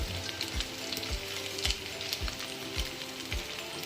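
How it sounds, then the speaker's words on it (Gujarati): Sabudana vada fry in hot oil, a steady crackling sizzle with repeated small popping bursts, close and even throughout. "આપણે આમ થોડીક વાર તળે પછી આ રીતે આપણે ફેરવવાના."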